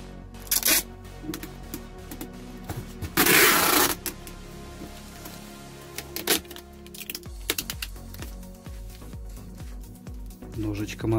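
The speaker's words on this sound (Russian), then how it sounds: "Теперь принес скотч. Скотчем я заклею крышу ему." Adhesive tape pulled and pressed onto a cardboard cat house roof, with crackling peels, one loud rip and scattered taps and rustles, close up, with some speech in the background.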